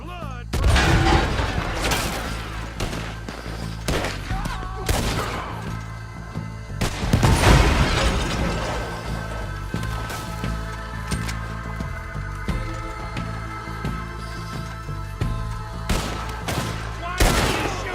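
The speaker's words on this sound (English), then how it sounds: "Why are you shooting?" A shootout in Red Dead Redemption 2: dense, loud volleys of gunfire with sharp cracks and booming shots crowd the whole stretch, with short bursts coming close together.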